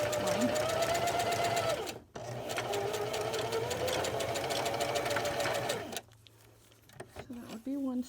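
A sewing machine stitches a double-layer fitted cloth face mask, a steady close whirring hum for about six seconds before it stops briefly, then short bursts of stitching follow.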